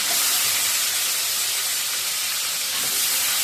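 Native koi fish (climbing perch) fry in hot oil in a home kitchen with a loud, steady, close sizzling hiss that holds without a break. No one speaks.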